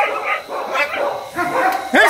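A young puppy barks and yips in short, sharp bursts close by, interspersed with brief whimpers, while someone talks in between.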